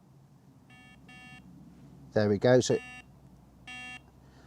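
A Rippton Bitekeeper Cube fishing bite alarm sounds in short electronic beep bursts, two close together and then one more after a pause, clear and near, while someone briefly speaks between them.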